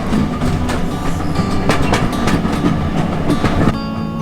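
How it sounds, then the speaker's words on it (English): A 1946 steam locomotive, 34027 Taw Valley, hauls carriages along the Severn Valley Railway, heard from on board as a steady rolling rumble with repeated clickety-clack beats from the wheels over rail joints. "We rode to Bridgnorth on the 34027 Tor Valley steam train."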